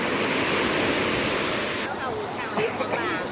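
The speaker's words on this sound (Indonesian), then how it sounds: "aku di pantai." Ocean surf rolls steadily onto a beach in Bali, a continuous loud wash of breaking waves with a slight dip and faint splashes toward the end.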